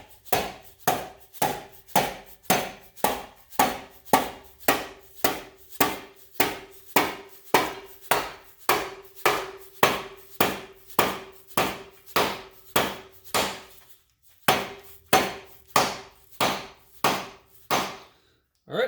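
A mallet strikes a part on an Olds 403-powered Baja jet boat engine, about thirty sharp, evenly spaced knocks, loud and close, with a brief pause before the last few blows.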